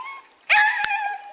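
A female dog whimpers and yips by a river, stranded alone on the far bank; after a brief lull, a close, loud run of high, strained whines with one sharp yelp in the middle.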